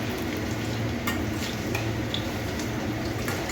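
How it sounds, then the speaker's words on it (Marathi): Bread pizza pockets frying in hot oil give a steady, close sizzle and bubbling crackle with a few sharper pops, heard alone without talk. "अशा प्रकारे आपण तळत आहोत"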